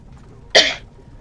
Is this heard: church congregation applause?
no